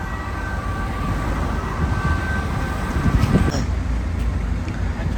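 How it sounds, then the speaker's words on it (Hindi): Ambulance and police car sirens wail steadily through an Italian village street, a sustained tonal siren over rumbling traffic and background noise. "यार यहाँ की एम्बुलेंस और पुलिस की गाड़ियाँ बड़ा ही शोर करती हैं।"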